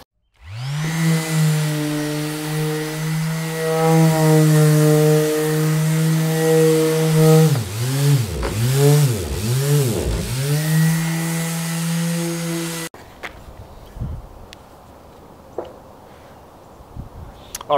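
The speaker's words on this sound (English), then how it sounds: "So let's sand off what we can and we'll see where we're at." A power sander grinds excess body filler off a repair, a loud steady whine with strong harmonics for about thirteen seconds, its pitch dipping and surging several times near the end before cutting off to quieter background noise.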